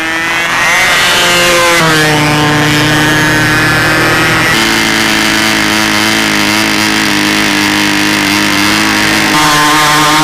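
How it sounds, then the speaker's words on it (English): A loud engine roars continuously, its pitch shifting and stepping as it revs, with an uneven, sputtering quality running throughout. "I hear an engine burping back there."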